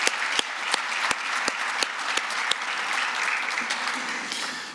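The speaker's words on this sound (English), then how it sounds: "Let's give another round of applause to President Kabourek." An audience applauds President Kabourek at a University of Nebraska Board of Regents meeting, with steady, moderately distant clapping and a few sharper individual claps standing out.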